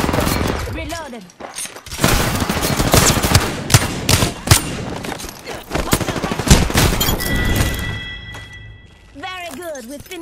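Rapid automatic gunfire and bursts of shots in the Apex Legends battle royale shooter, loud and dense over several seconds, mixed with game effects and a voice talking over the action.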